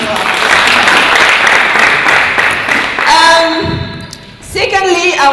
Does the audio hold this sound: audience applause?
yes